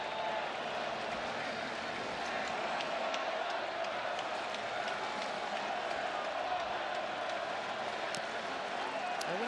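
A large baseball stadium crowd at the final game in the Oakland Coliseum roars in a continuous, distant wash of cheering and murmur, with scattered claps and whoops throughout.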